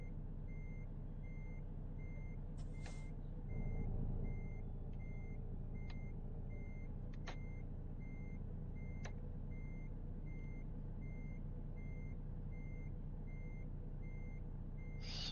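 Reversing beeps from a truck in American Truck Simulator while backing up close to a wall, a steady evenly spaced series of tones over a constant low engine rumble, with no talk.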